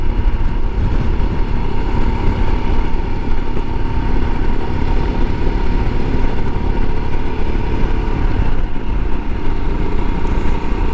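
Royal Enfield Himalayan motorcycle engine running steadily while riding on a winter ride, a loud, continuous rumble with constant drone and no voices over it.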